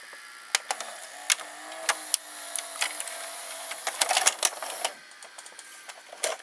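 A Panasonic NV-SD300 multi-system VCR with a K mechanism ejects a tape in a run of close, sharp mechanical clicks and ticks, with a faint whirring motor underneath and a denser cluster of clatter near the end.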